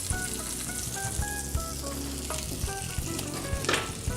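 Hamburger patties sizzle steadily in a hot pan with a bit of pepper added, a constant close crackle broken by occasional clinks and scrapes of a utensil.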